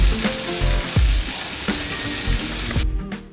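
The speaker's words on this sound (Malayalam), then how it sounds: "വെളിച്ചെണ്ണയിൽ ഫ്രൈയിങ് പാനിൽ വെച്ച് ഒരു മീഡിയം തീയിൽ രണ്ട് സൈഡും നല്ല ബ്രൗണും ക്രിസ്പ് ആവണ വരെ നമുക്ക് വറുത്തെടുക്കണം" Sardines frying in coconut oil in a frying pan over medium heat, a loud, close, continuous crackling sizzle with occasional sharper pops and bursts, dropping off abruptly at the end, with no talking.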